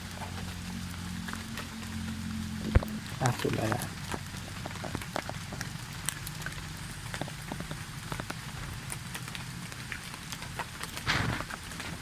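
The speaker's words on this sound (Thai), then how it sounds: "โอ้ฝนตก" Steady rain patters on surfaces with scattered sharper drips, while someone speaks briefly nearby in Thai.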